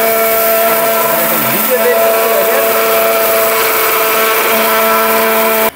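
A robot blender whirs at high speed grinding cumin seeds into powder, a steady loud motor whine with a brief dip in pitch as the load shifts, running continuously before cutting off abruptly at the end.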